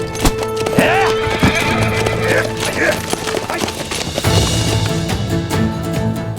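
Horses gallop with busy clip-clopping hooves and loud neighing and whinnying amid a tense historical drama battle scene, with shouting voices mixed in over the commotion.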